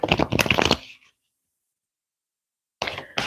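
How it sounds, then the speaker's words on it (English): Tarot cards shuffled by hand in two short bursts of crisp riffling and flicking, close and clear, separated by a stretch of silence. "One more shuffle."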